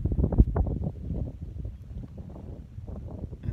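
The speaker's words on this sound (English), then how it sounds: "Just a gentle breeze." Gentle breeze buffeting the microphone at Nadab lookout in Ubirr, Kakadu, a soft low rumbling gust, strongest at the start and easing into a steady faint whoosh.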